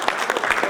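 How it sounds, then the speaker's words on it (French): A brief burst of applause from an audience at a talk on CSR and quality, with a few distinct claps audible in under a second. "On applaudit, bien."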